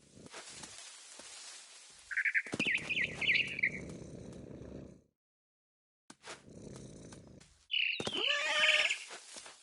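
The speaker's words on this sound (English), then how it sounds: "I heard chirping outside my window. It was a barn swallow going back to her nest." Barn swallow chirps and twittering calls in a video game come in short bursts, broken by a brief silence, with a louder chattering flurry near the end.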